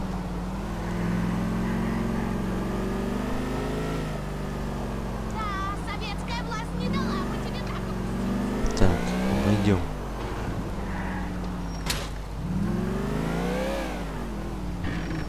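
A stolen van drives in Grand Theft Auto IV, its engine droning and revving steadily with shifting pitch under game sounds, while someone talks over it.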